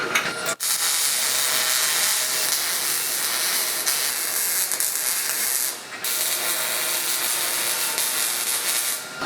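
Welding a bead onto a bracket on a Jeep frame rail: a steady, loud broadband crackle and hiss runs almost unbroken, with a short gap near the start and another brief break partway through.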